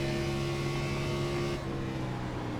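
An Xfinity stock car engine in iRacing holds a steady, loud full-throttle drone with constant tonal harmonics, running continuously and slightly dropping in brightness near the end.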